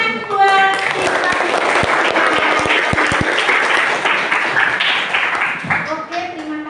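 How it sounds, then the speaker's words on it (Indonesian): Students in a classroom clap together for their classmates, a burst of close, lively applause with a few sharp individual claps, fading out near the end as voices come in. "Tepuk tangan buat siswa."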